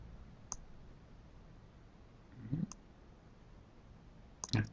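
A computer mouse clicks softly while a selection is made in Photoshop, with a few isolated clicks spaced seconds apart against quiet room noise.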